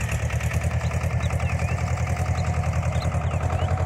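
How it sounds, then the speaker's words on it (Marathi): A tractor engine runs steadily while sowing a field, a loud, close, even mechanical throb with a regular pulsing rhythm and no breaks. "आता ही ट्रॅक्टरने पेर करावं लागली मित्रांनो"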